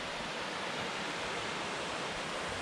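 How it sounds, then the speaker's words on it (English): A mountain creek near Namche Bazaar, Nepal rushes in a steady, loud broadband wash of flowing water, close by and continuous with no voices over it. "And here's the creek coming out."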